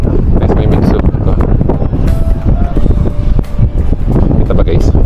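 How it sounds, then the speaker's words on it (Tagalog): Gusty wind buffets a microphone outdoors near a busy food court area, loud rumbling bursts rising and falling while a person talks over it. "So, mahangin siya guys."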